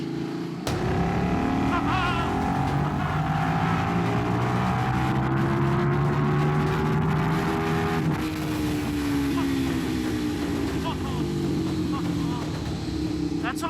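A KTM RC8 superbike accelerates hard down a straight. Its loud engine note climbs steadily through the revs, breaks at a gear change partway through, then keeps pulling at full volume.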